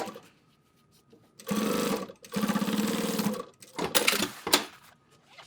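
A sewing machine stitching a sling bag wing into shape in rapid, close bursts of chattering needle strokes, with brief pauses and handling noises between the runs.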